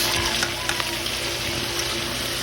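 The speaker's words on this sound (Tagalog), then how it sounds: "Gigisa natin yung sa kamatis." Tomatoes sautéing in a pan for a miner's home-cooked dish, giving a steady close sizzle and frying hiss with a few light stirring clicks, no voices.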